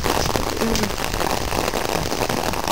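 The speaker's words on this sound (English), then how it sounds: "Like hard rain." Hard rain pounding a roof and an umbrella, a dense, loud, continuous hiss of drops with scattered sharper patters throughout, close by and without speech.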